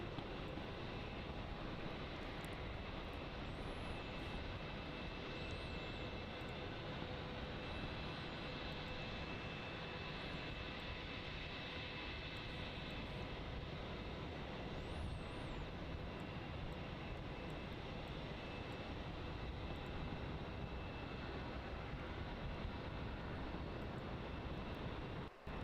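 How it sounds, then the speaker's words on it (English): Airliner jet engines on the runway at Melbourne Airport, a continuous distant broadband roar with a steady whine, fairly faint and unbroken, with no talk. "Barreling down runway 34."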